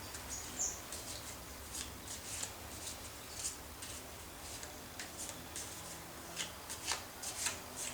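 Someone shuffles a deck of cards close by, with repeated soft riffling bursts and light flicks in an uneven rhythm, quiet and with no talking.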